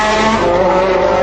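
Andrea De Cesaris's Formula 1 car slides sideways onto the grass in a major crash, heard as a loud, close, sustained engine whine with a squealing tire edge, brief and intense.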